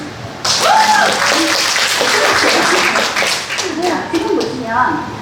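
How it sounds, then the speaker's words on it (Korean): A burst of clapping from a small group starts suddenly and continues for several seconds, with voices talking and laughing over it. "박수!"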